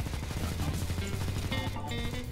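Gunfire in the game CS:GO Zombie Escape, a dense, continuous stream of rapid shots layered over loud in-game music and effects, steady throughout.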